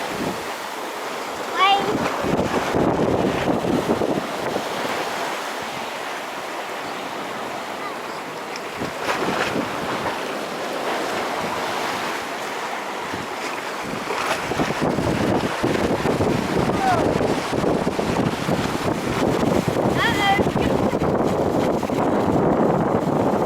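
Ocean waves surge and break continuously at sea near rocks, with gusty wind buffeting the microphone throughout; the roar stays steady and loud, swelling in a few heavier surges.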